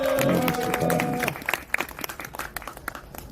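Crowd applause at an emergency action rally by National Assembly members, clapping starting under a held voice and steady tones, then thinning into scattered individual claps and murmuring.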